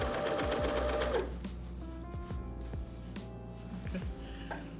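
A sewing machine stitches a pillow case and curtain hem, starting with a fast, loud run of rhythmic needle thumps that slows into a series of shorter, separate bursts of stitching and mechanical clunks nearby.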